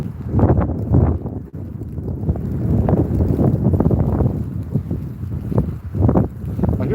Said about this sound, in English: it's getting a little bit windy here on the bridge